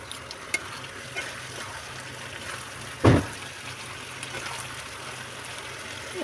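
Chicken pieces for a Mughlai chicken maharani fry in a pan with a steady soft sizzle, broken midway by a single sharp clank of a utensil against the pan.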